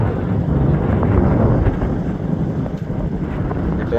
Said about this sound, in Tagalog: Lakas ng hangin niya na.